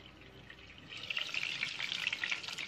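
Salmon fillet cooking in butter in a pan, a soft sizzle that swells into a brighter, busier spattering crackle partway through, close and moderately quiet.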